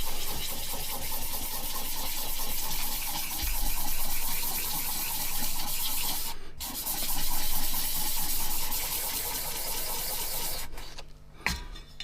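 Wet sandpaper rubbing over nitrocellulose lacquer on a guitar pedal enclosure, a steady close scratchy rasp with a continuous wet hiss, running without pause and briefly breaking off twice near the end.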